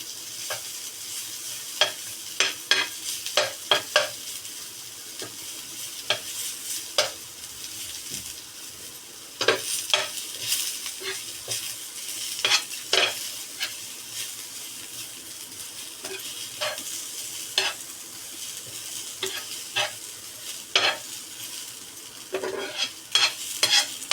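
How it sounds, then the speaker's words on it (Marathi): Grated coconut and onion roast together in a pan, a soft steady sizzle punctuated by frequent sharp scrapes and taps of a spatula against the metal, with no talking. "दोन ते तीन मिनटात आपण इथे भाजून घेणार आहोत खोबरं आणि कांदा एकत्र केलेलं आहे"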